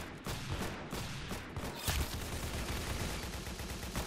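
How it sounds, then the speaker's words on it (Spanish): Rapid gunfire in the video game Arsenal, a dense continuous stream of overlapping shots and bursts at steady loudness with no pauses. "Fallé todos los tiros otra vez."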